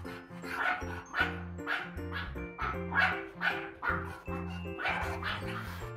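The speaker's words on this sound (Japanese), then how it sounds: "他のワンちゃんがめっちゃ吠えてるからびっくりした。" Several dogs bark and yip nearby in a quick, repeated series of about eight sharp calls, some high and whimpering, fairly loud and close.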